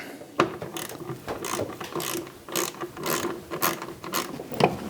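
A ratchet wrench clicks in quick repeated bursts while loosening a car's ground wire, the pawl rattling close and clear with short pauses between turns and no talking.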